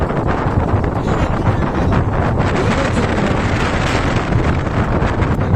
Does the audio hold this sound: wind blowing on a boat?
yes